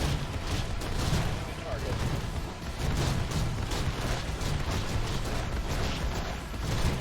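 Shotgun fire in the sci-fi game Infested Planet rattles as dense, continuous bursts of overlapping shots across the whole stretch, with a voice talking over the gunfire.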